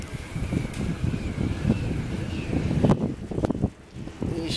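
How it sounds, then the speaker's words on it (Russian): Wind gusts rush and buffet steadily across the whole stretch during a wind turbine test run, with a low rumble of blowing air and a faint whine rising and falling beneath. "Как раз есть ветер."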